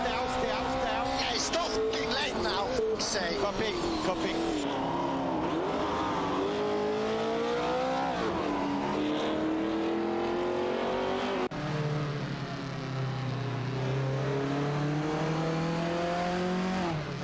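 Race cars from an AI racing video game roar continuously at high revs, engine tones rising and falling as cars overtake, loud and unbroken throughout.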